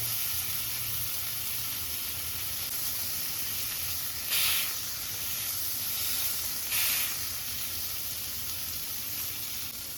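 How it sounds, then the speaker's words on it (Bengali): Pakistani Adana kebabs fry in a pan, one side pressed down with a spoon, producing a continuous loud hiss with two brief louder bursts of spitting sizzle. "যেই সাইড মনে হবে যে একটু কাঁচা কাঁচা আছে সেই সাইড একটু চামচ দিয়ে প্রেস করে ভেজে নিতে হবে"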